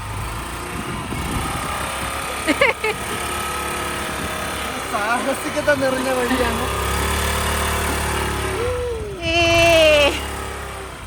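Motorcycle engine running along a village road near Cat Cat Village in Sapa, Vietnam, a steady idling drone throughout with a revving rise near the end, under continuous talk.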